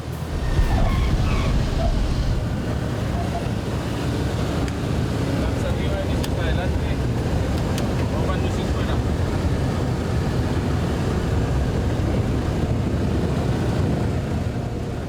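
A DC-3 aircraft landing in extreme crosswinds and heavy gusts, a continuous loud rumble of engines mixed with buffeting wind noise on the microphone, steady throughout.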